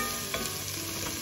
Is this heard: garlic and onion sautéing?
yes